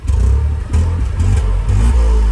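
Dacia Sandero Stepway TCe 110 engine revving, a loud, close, steady mid-pitched drone with small surges in throttle and no talk over it.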